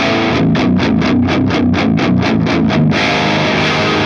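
Electric guitar through a heavily distorted classic metal 800-style amp tone plays a fast chugging riff of rapid palm-muted notes for about three seconds, then rings out on a sustained, loud chord.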